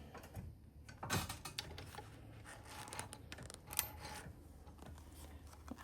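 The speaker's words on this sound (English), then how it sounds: "Cut those threads just like that." Scissors snipping sewing threads after stitching fabric corners, two or three quiet, crisp cuts spaced apart against a faint room background.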